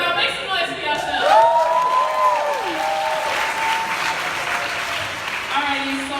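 An audience at a community report release in a church applauds and cheers steadily, with a few whoops rising above sustained clapping throughout.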